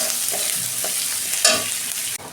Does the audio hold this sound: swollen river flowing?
no